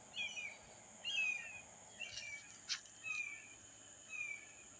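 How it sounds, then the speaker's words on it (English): Hawk calling outdoors, several thin high descending cries spaced about a second apart at moderate distance over quiet background. "You hear that hawk?"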